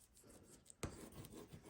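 A bone folder rubs firmly across paper on a mini album cover, giving a close, dry scraping and swishing with a sharper stroke partway through, then steady rubbing.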